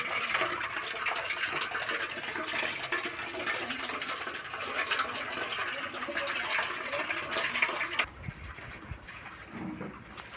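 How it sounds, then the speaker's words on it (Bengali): Water runs steadily from a tap into a bucket, a loud continuous rushing splash close by for about eight seconds before it cuts off, leaving quieter background sounds. "আগে কলে জল ভরতে দিয়ে দিই"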